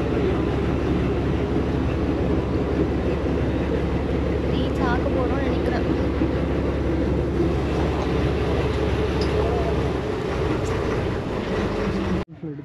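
Boat engine drones steadily and loudly on a ride to Munroe Island, a continuous low rumble under someone talking, cutting out abruptly near the end.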